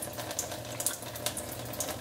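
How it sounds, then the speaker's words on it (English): Water streaming steadily from a Tyent 9000T water ionizer on an alkaline cooking setting, a continuous close splashing flow with a faint hiss and no talk. "Cooking water comes out."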